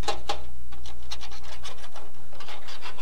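A 5-in-1 tool scrapes old paint off a Willys MB jeep grill in a series of close, gritty rasping strokes, quick and uneven in rhythm, with steady low background hum.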